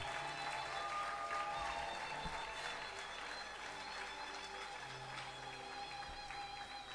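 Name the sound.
applause at honorary doctorate ceremony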